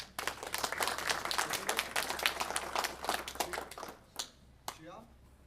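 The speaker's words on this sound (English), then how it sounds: "Round of applause, please." A magic show audience applauds a volunteer coming up on stage, a dense burst of clapping that holds steady for about four seconds and then quickly thins out to a few scattered claps.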